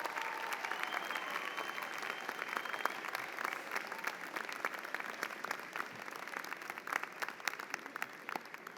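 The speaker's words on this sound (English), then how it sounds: "give them a round of applause" Steady, dense applause from a large convocation audience fills the hall without a break, many hands clapping at once.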